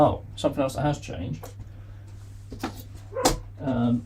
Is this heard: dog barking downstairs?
yes